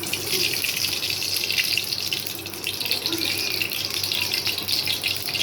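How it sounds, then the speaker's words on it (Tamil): Cooking oil poured into a pan for a chicken fry, a steady close liquid rush like running water that holds at an even level throughout with no voices. "அதுக்கு வந்து கொஞ்சம் எண்ணெய் ஊற்றலாம்."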